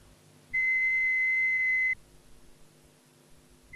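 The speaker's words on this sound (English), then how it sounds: "so it'll be a higher tone that you hear." A single steady, pure high-pitched tone from a hearing sensitivity test sounds clearly for about a second and a half, then stops, leaving a quiet background.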